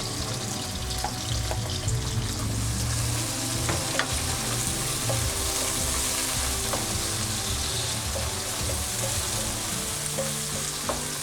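Onion and green chillies softening in a pan, a steady dense sizzle with occasional clicks of a spoon, close and even in loudness, no one speaking.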